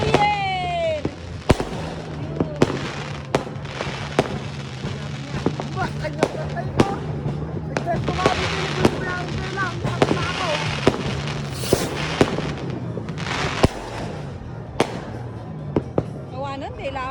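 New Year fireworks burst in a rapid, irregular series of sharp cracks and booms, some close and loud, others farther off, while people talk and call out over the explosions.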